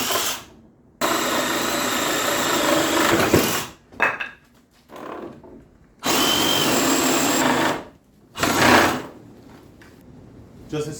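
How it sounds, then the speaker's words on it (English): A Sawzall reciprocating saw cuts through wood beams in two long, loud bursts of harsh buzzing, separated by brief pauses with shorter bursts and some handling noise. "quick couple cuts with the sawzall"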